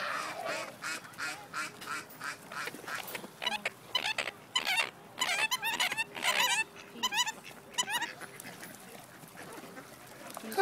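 Ducks by the water, joined by pigeons: repeated nasal quacks in irregular bursts, fairly close and clear against a quiet outdoor background.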